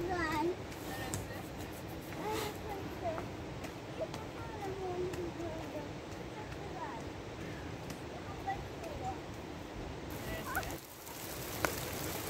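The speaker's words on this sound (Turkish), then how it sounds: "Yağmur geliyor, yağmur geliyor." Rain falls steadily on a forest during a walk, an even, continuous patter and hiss throughout, with children and adults talking over it.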